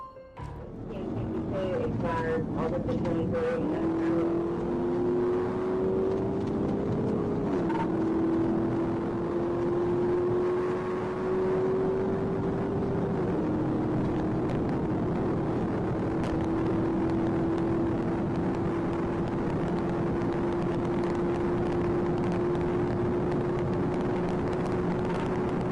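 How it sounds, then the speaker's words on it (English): A police car accelerates hard toward about 140 mph during a high-speed chase, its engine a loud sustained drone climbing in pitch through several gear changes, then holding a high steady tone. "Trooper Williams accelerated to a recorded speed of approximately 140 miles per hour in an attempt to close the distance with the suspect vehicle"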